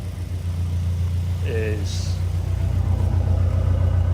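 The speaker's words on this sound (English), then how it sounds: "as you can hear, I've got the engine running" A Caterham car engine idles steadily at its first service, warming the oil: a low, even rumble running throughout, close by, with a brief spoken word over it partway.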